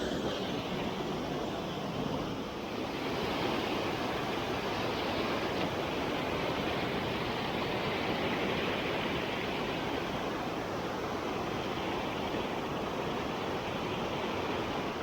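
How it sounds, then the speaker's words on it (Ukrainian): Water of the Lužická Nisa river rushes over a waterfall within a town, a constant, broad roaring hiss that stays steady and close throughout with no breaks. "дивіться, який тут, друзі, водоспад"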